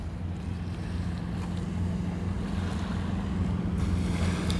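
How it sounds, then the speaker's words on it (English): Water pumping out of a hole in a sinkhole, a steady low churning gush with a constant rumbling hum and some wind buffeting, close by and without speech. "There's a hole inside there. Water keeps pumping out."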